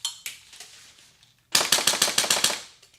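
A Polarstar Kythera airsoft gun engine fires a rapid burst of about ten sharp, loud, evenly spaced shots close by, after quieter mechanical clicks and handling sounds.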